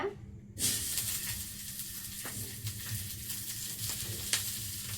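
Onions frying in a pan for a Maharashtrian curry, a steady close sizzle and hiss with faint stirring clicks and scrapes, no voices.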